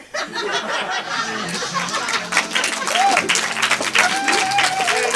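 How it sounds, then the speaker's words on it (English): Sustained audience applause at a live variety stage show, steady dense clapping mixed with scattered cheers, whoops and chuckles from the crowd, holding loud throughout. "And keep that applause rolling for your next stage talent and neighbors!"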